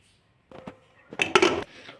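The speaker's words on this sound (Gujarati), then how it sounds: "હવે આપણે કુકરનું ઢાંકણું બંધ કરી દઈશું।" Closing the lid of a pressure cooker while cooking ragda for samosa chaat: a few close metallic clunks and rattles, the loudest cluster near the end, with no talk.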